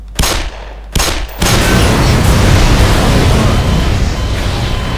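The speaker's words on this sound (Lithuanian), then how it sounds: "Ar sprogimas bus toks galingas, kad ir iš čia mane užmuštų?" In the video game Black Mesa, an explosion goes off: two short, loud blasts open the sequence, followed by a sustained, roaring wall of rumbling noise that fills the rest of the clip.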